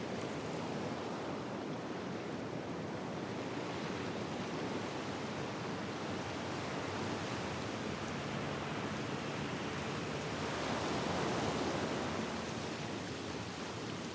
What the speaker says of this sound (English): you hear the sound of the sea, threatening. The waves crashing against the reef, a permanent undertow.